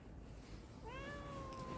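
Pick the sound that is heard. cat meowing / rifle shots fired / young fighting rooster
cat meowing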